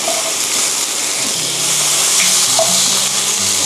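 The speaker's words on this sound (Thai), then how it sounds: "ผัดให้หมูเริ่มสุกนิดนึงนะคะ" Pork stir-frying for Japanese-style sukiyaki, a loud, steady, close-up sizzle and hiss of hot oil that holds evenly throughout, with faint stirring underneath and no voices.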